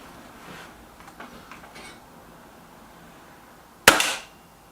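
BSA TS Ultra air rifle fires a single test shot, one sharp, loud close crack with a short decay after a few quiet handling clicks and rustles.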